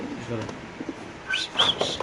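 Young pigeons in a cage give soft coos and whistling calls, growing louder toward the end, with faint voices murmuring in the background.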